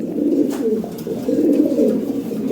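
Pigeons coo close by in soft, low, rolling calls repeating in a steady rhythm, with a faint thin sound or two above them and no talking.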